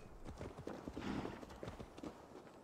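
Horse hooves in Assassin's Creed Valhalla, a quick galloping clip-clop of repeated sharp hoof beats at a fast even rhythm, fairly quiet and close, with no speech.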